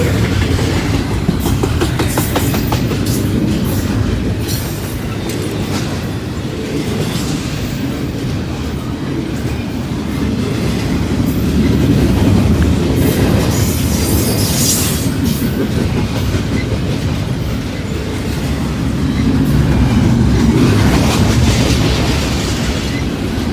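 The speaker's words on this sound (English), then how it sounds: "Norfolk Southern shooting down the track" A heavy Norfolk Southern freight train rumbles past at close range, a loud, continuous roar of wheels and rail noise lasting the whole stretch, with no talking.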